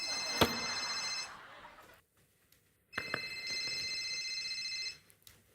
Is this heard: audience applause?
no